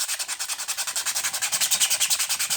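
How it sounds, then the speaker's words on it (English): Hand sanding with quick up-and-down strokes gives a rhythmic, steady rasping, about ten strokes per second, close and fairly loud with nothing else over it. "Now, when you sand,"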